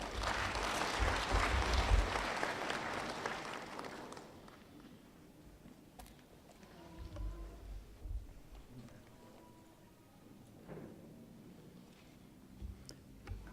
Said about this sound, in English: Another clap for the Mr. Daboki for his remarks